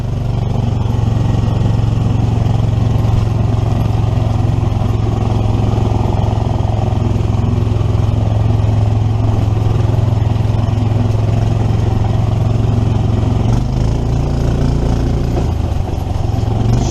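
A fully enclosed 1982 EZ-GO three-wheeler with a governed 420cc Predator engine climbs a hill, giving a loud, steady mid-pitched engine drone that holds almost unchanged throughout, with a slight dip near the end.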